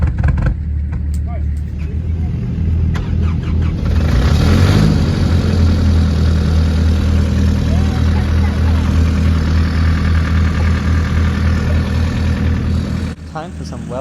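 Off-road vehicle engine revving on a steep forest hill track, a loud continuous engine drone that swells and holds throughout before dropping off near the end.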